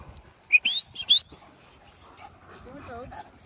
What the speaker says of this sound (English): Still an awkward puppy.